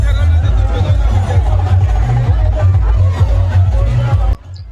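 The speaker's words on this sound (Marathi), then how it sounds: "हे काय जत्रेमध्ये ते भरपूर सारा आवाज ऐकवतो" Loud, dense crowd hubbub at a Mahalaxmi temple fair, with overlapping voices and low rumbling noise, close and continuous until it cuts off abruptly near the end.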